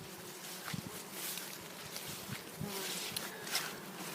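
Insects buzz steadily at close range, a soft continuous hum with brief louder passes as individual bees move about near the hive entrance.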